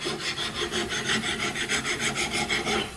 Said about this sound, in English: Start out with a coarse file.